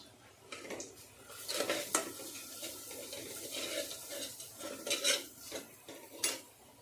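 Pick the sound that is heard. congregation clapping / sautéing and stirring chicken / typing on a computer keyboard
sautéing and stirring chicken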